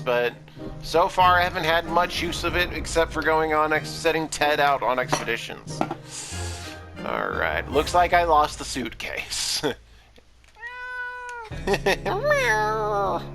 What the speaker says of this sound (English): If you guys have heard scratching at the door, that's my cat.